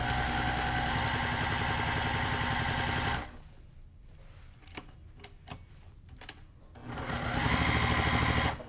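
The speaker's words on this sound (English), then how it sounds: "I'm gonna sew my first one." A sewing machine stitches quilt fabric for a nine-patch block, running as a loud, steady close-up whir. It stops for a few seconds with small clicks and handling noises, then starts stitching again.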